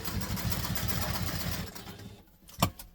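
A sewing machine stitches a construction-length seam on a backpack, running in a steady close whir for about two seconds before stopping, followed by a brief handling knock.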